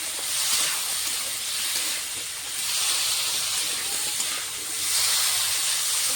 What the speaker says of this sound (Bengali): দিয়ে ভালো করে নেড়ে চেড়ে লাল লাল করে ভেজে নেবো আলুটা